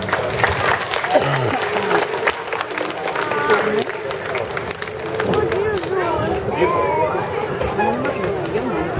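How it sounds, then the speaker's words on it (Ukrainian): An audience at a community event in Drohobych claps in a sustained, crowded patter, with chatter and voices mixed into the applause throughout. "Оплески їй, будь ласка."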